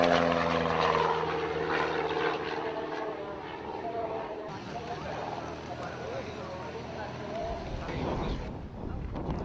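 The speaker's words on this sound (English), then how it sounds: "fully aerobatic aircraft with side-by-side seating, powered by a 200 horsepower Lycoming IO360 flat 4" An aerobatic side-by-side two-seat aircraft with a 200 hp Lycoming IO360 flat-four and a constant-speed two-bladed Hartzell propeller drones steadily at an airshow, loud and continuous, with a commentator talking over it.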